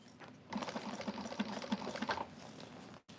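Sewing machine stitching the side seam of a bag, a quick steady run of mechanical needle thumps for about two and a half seconds, fairly close and alone, then stopping.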